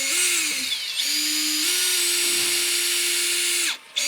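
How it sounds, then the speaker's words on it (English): Power drill boring holes in a pedal car: a steady, loud whine held for about four seconds, close by, with a brief dip near the end. "I drilled 2 holes"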